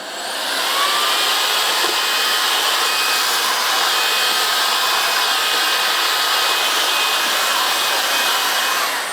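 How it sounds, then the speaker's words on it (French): An Ultenic U16 cordless stick vacuum runs with its flat crevice nozzle in economy mode, producing a steady, loud, high-pitched motor whine and airflow rush that holds constant throughout, close by, with no talking. "Allez, là, on va tester le suceur plat en mode économique."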